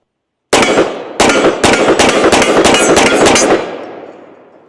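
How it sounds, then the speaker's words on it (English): A Desert Eagle firing .44 Magnum rounds outdoors, with a very loud single shot followed by a rapid string of close shots, each cracking sharply and the last one ringing out in a fading echo. "Let's go ahead and shoot some 44 through it."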